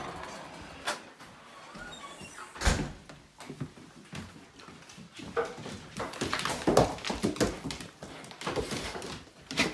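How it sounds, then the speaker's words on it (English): A nearby back door rattles and swings open amid scuffing footsteps and shuffling movement of Great Danes, with soft thumps and clatter scattered throughout. "next shot you'll see is me walking in this back door and how Magic and Finn welcome me."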